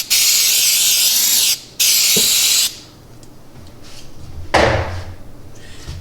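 Two loud bursts of aerosol cooking spray hiss up close over fish fillets in an air fryer, a brief pause between them, then a thud and a short rustle.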